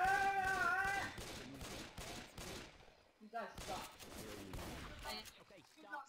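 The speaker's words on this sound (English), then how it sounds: "I'm shooting his dead body." Rapid gunfire from the video game Left 4 Dead 2 in the swamp setting, bursts of shots mixed with game sounds and a voice talking over them.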